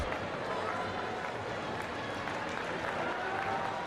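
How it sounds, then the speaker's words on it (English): Fans in a sold-out high school gym at a boys basketball sectional championship cheer and clap in a steady, moderately loud wash of crowd noise, with voices mixed into the din. "And now the fans are getting excited."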